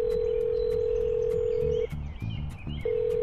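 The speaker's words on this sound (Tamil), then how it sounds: "1950 டயல் பண்ணுறதுக்கு முன்னாடி உங்கள் எஸ்டிடி கோடை போடுங்க" A steady telephone tone sounds while dialing the 1950 election helpline, broken near the end by a brief burst of dial beeps before the continuous tone returns; no one speaks.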